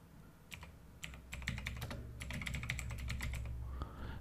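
Rapid keystrokes on a computer keyboard while entering a search into the Windows 11 search box, a quick uneven run of close, quiet clicks with no voices.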